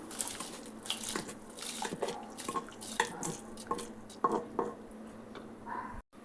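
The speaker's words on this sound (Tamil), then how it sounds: "இப்போ நான் 1/2 மணி நேரம் ஊற வச்ச சாப்பாடு அரிசி சேர்த்துக்கிறேன்." Soaked rice goes into boiling water in a pressure cooker for lemon rice, with close, irregular splashing, pattering and clinking of the pot that stops abruptly at the end.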